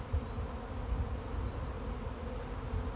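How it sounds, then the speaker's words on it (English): A honey bee swarm fills the air in a dense, continuous buzzing drone heard from within the cloud of bees, moderately loud and steady with fluttering low rumbles, no voices. "Standing in the midst of a swarm. This is a swarm in action."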